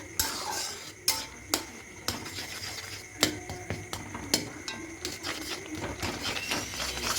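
A utensil stirs Gobindobhog rice flour into a batter in a bowl, giving close, repeated clinks and scrapes against the side with a soft steady swish between them.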